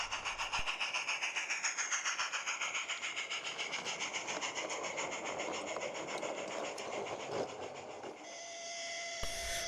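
A light railway mixed train runs along the line with regular clickety-clack wheel beats and a rolling rumble that fade toward the end, ending in a hissing noise, fairly faint and at middle distance.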